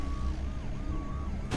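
A siren wails in a rising and falling pattern, moderately distant, under a rumble of background noise, ending with a sudden burst of noise.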